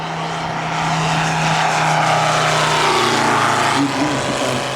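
A Moki 400 radial engine drives a 60% scale RC Bücker Jungmeister, a steady loud droning hum with a low fundamental that holds throughout, rising slightly in pitch near the end.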